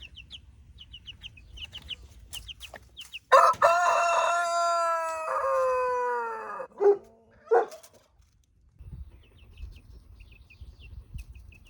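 A rooster crows loudly and close by, one long harmonic call lasting a few seconds, followed by a couple of short squawks against a quiet yard with faint chirps.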